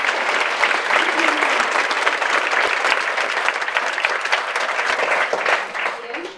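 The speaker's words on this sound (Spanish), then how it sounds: "un fuerte aplauso por favor" Audience applause fills a theatre hall during a legislative theatre event in Barcelona, a steady, dense clapping that stays loud and sustained for several seconds before tapering off at the end.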